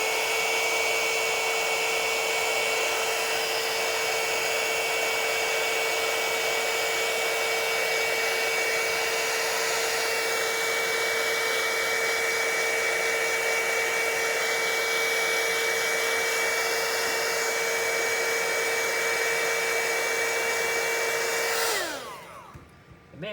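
A heat gun blows with a steady, loud whirring hiss while it shrinks tubing over a Toshiba hibernation battery pack, running constantly for over twenty seconds before it winds down and stops near the end.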